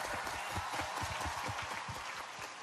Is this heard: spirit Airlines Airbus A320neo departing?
no